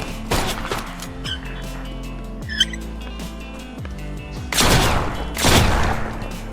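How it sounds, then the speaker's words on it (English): Video-game gunfire aimed at the player on Misery hardcore difficulty: a short burst of shots early on, then two louder, denser volleys near the end over a steady low in-game background hum. "Oh shit, I'm being shot at."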